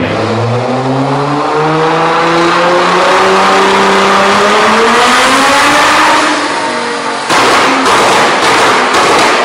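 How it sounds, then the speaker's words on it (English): A Nissan GT-R R35 fitted with an Armytrix Valvetronic exhaust revs up loudly and close, the engine pitch climbing steadily before a sharp burst of pops and crackles from the exhaust near the end. "it's going to explode and like pop out the back of the exhaust basically"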